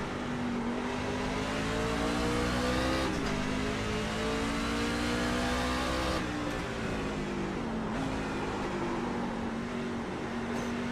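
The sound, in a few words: race car downshifting and revving in iRacing video game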